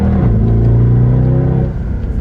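A Mercedes E63 AMG accelerates on a freshly repaved race track, its loud, close engine note holding a strong steady drone before easing off near the end.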